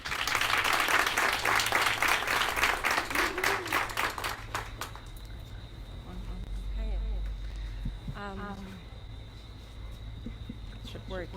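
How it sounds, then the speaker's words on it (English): Audience applause at an evening astronomy talk on supermassive black holes, a dense burst of many hands clapping for about five seconds that fades out, leaving low room hum with scattered small noises. "can everybody give a big round of applause for Laura?"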